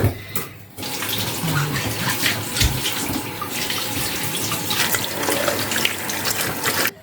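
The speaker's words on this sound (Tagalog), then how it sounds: "After, hugasan ng mabuti." Steady rush of tap water runs over raw chicken being washed in a home kitchen in Romania, loud and continuous, with faint handling sounds and no talk.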